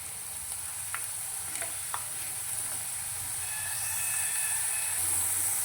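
Potato slices frying in hot oil on a home stove give a steady, close sizzle and hiss throughout, with a few faint clinks of a spoon and the crackle swelling slightly toward the end.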